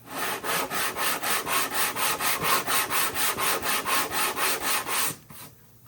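Hand sanding a bevel on wood for a model RC airplane canopy, steady back-and-forth strokes in a fast even rhythm, close and loud, ending abruptly near the end.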